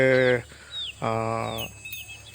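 Two drawn-out, harmonic calls from a native country hen, close and fairly loud, separated by a short pause, with faint high chirps in the background.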